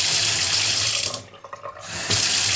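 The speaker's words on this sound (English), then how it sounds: "If you really want to save water, you can have it down in a trickle like that, and you can wash your hands that way." Water runs from an industrial sink faucet, a steady rushing stream that thins to a quieter trickle midway and then returns to full flow.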